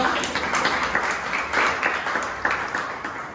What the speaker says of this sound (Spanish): un aplauso para el equipo 5